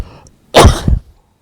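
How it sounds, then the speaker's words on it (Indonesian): A single sharp, close cough from an adult man, preceded by a faint breath and trailing off quickly into silence. "Mohon maaf agak batuk."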